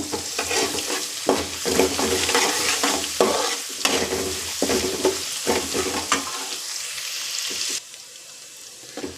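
Garlic stir-fries in a pan for tomato fried rice, loud rhythmic scraping and tossing over a crackling sizzle, close up, easing to a quieter hiss near the end.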